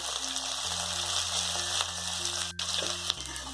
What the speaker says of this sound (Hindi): हमें अपनी भिंडी को हाई फ्लेम पे ही फ्राई करना है।